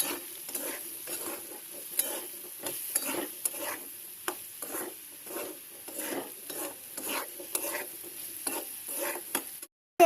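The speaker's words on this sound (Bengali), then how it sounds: "এখন কিন্তু আমি আলুটাকে আবারও নাড়িয়ে নেব" Potatoes are stirred as they fry in a pan with salt and turmeric, a steady sizzle broken by rhythmic scraping strokes of a utensil, close and fairly quiet, with no talk.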